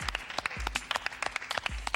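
Lively applause from a small group right after a step aerobics workout, with dense clapping and a few louder claps, close and fairly quiet, with faint voices mixed in.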